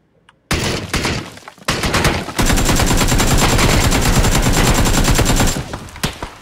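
Intense automatic gunfire in PUBG, very loud and close. Short bursts open into a long unbroken stream of rapid shots that ends in a few scattered pops. No voices.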